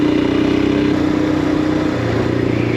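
A Royal Enfield Himalayan single-cylinder engine revs inside an underpass, its loud, steady, throbbing drone echoing off the walls, with the pitch shifting about two seconds in.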